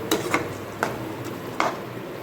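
Curry being stirred in a pan, a spoon giving about four light, separate scraping clicks against the metal, faint and unhurried, with no talking.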